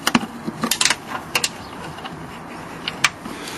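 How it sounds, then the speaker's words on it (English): A screw is worked loose from the A-bar on a Land Rover Discovery 3, giving a few close, sharp clicks and light metallic ticks with brief scraping in between, against a quiet background. "So I remove the screw."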